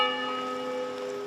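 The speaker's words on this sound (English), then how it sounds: "holding candles as bells rang out at 7 p.m." Bells ringing out at 7 p.m. over a silent crowd in downtown Oxford, a ringing tone that sustains and slowly fades, its overtones hanging steady with no voices present.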